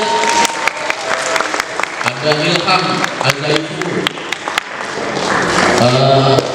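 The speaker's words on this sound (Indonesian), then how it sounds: "Tepuk tangan untuk adik-adik kita." An audience at a book workshop and launch applauds a group of children, sustained clapping under a speaker's voice calling out names over the noise.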